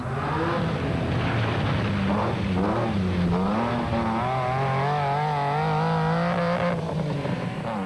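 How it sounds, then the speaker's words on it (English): Onboard a Nissan Hardbody race truck at the Caledon 400 race in 2002. The engine drones loud and continuously, with the pitch rising and falling through gear changes and revs. "On board with Grobler and Leek in the Nissan hardbody"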